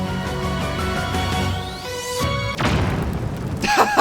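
A bomb detonates in Zelda: Tears of the Kingdom, a single loud boom with a noisy burst that breaks through the game's tonal music, followed by a short scattered rumble.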